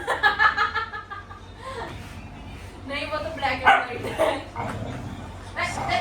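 Three black and white dogs bark at home in sharp bursts, loud and close, with people laughing and chuckling between the barks.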